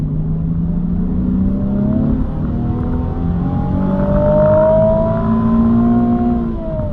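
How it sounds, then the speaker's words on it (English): Nissan 370Z Nismo engine accelerating on the road, a steady close-up drone whose pitch climbs through the gears with a brief dip around a shift, loud and continuous with no talking. "Now it's time to get it out on the road and see how it drives. All right, driving the Nismo Z."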